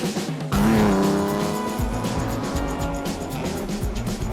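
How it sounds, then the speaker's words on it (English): An Aston Martin DB4 GT Lightweight from the late 1950s bursts into a loud, rising engine roar, then settles into a throaty, rumbling drive nearby, with a hint of tire noise. "It's an Aston Martin Db4Gt lightweight."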